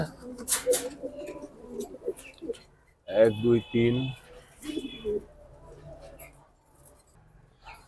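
Jabra pankhi pigeons coo in a few short bursts close by, mostly one clear burst in the middle, amid someone talking and counting.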